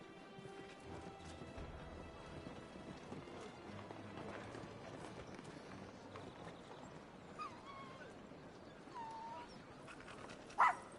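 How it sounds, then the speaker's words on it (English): Torgal, a dog in the Final Fantasy XVI video game, whimpers and gives soft barks amid steady game ambience and footsteps, with a louder short yelp near the end. "The dog is so cute."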